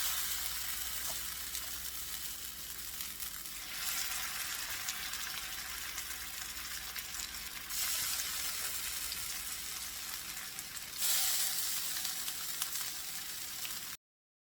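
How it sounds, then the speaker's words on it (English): Vegan meatballs sear in a hot skillet with a steady, loud broadband sizzle that surges in waves as they shift or settle in the pan, heard alone without talk. "I'm going to sear my meatballs."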